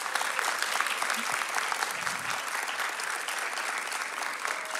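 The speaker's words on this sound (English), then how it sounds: "Can we give all of our performers another round of applause?" A crowd at a spring music recital applauds the performers with dense, steady clapping and faint crowd murmur, loud and continuous for several seconds.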